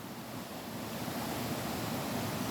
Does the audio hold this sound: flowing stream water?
yes